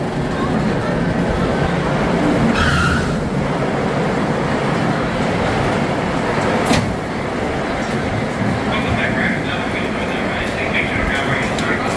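A roller coaster train rumbles and clatters along its track at Six Flags Over Texas in a loud, continuous roar, with occasional rattles and bursts of noise.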